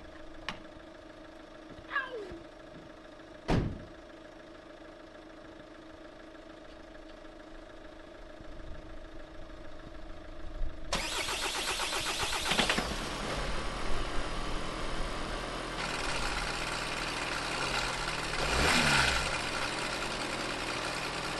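A Volkswagen Transporter T6 van engine, fitted in a camper conversion, cranks and catches after a quiet stretch with a few clicks and knocks, then settles into a steady, fairly loud idle outdoors.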